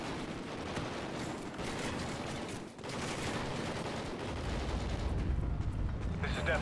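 Gunfire in the Call of Duty Ghosts campaign crackles in dense, overlapping bursts with a deep rumble beneath, briefly dipping before resuming, while someone talks quietly over it.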